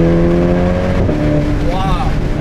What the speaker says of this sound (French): Écoutez le rupteur. Oh là là, la mitraillette.